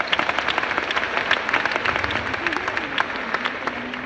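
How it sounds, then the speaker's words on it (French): An audience claps and cheers in steady applause, dense and fairly loud throughout, with a few voices rising above the clapping. "Applaudissements."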